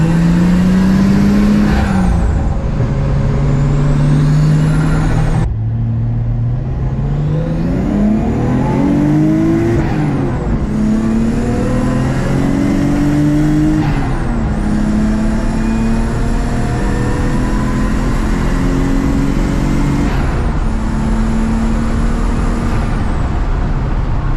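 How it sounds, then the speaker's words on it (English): Nissan S13 project car accelerating up to speed, heard from inside as a loud engine whose pitch climbs through several gears with brief drops at each shift, over constant road and wind noise. "We'll get it up to speed to re-verify."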